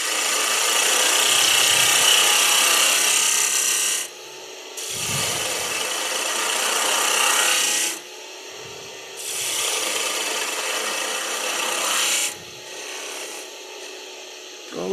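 Gouge carving the base of wooden branches on a lathe-turned piece, a steady rasping scrape in long loud bursts separated by short pauses, close and alone with no talk.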